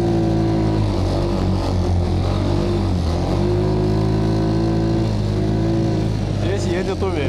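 Ataki WD 150 budget snowmobile driving through a quarry, its small engine droning loudly and steadily with slight pitch shifts as it runs along.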